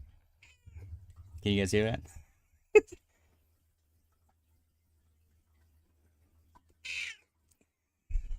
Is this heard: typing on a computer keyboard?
no